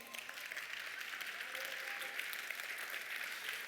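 A church congregation applauds steadily for several seconds, a faint, even wash of clapping heard from a distance, with a brief voice at the very start.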